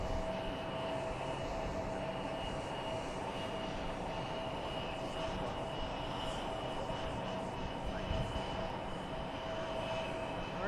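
A Southwest Airlines jet airliner at Boise Airport produces a steady, loud engine roar with a constant whine, holding evenly throughout with no talking.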